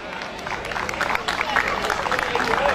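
A concert crowd at a live show in Máximo Paz applauds the drummer with dense, continuous clapping and some cheering, a voice talking over it.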